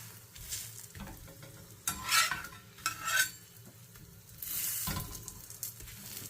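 A sugar-sweetened lacha paratha cooking on a griddle, with a low sizzle and several bursts of scraping and stirring from a utensil against the hot surface, close up and with no talk.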